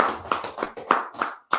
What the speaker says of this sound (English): Clap it up for the Lord.